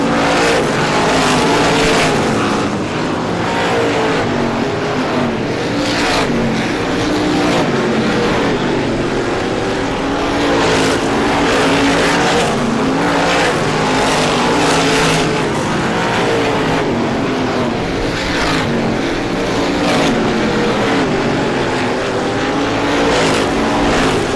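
Race cars roaring around an oval speedway during the Star Classic race, a continuous loud engine drone with cars repeatedly passing and fading, steady and dense throughout with no talk.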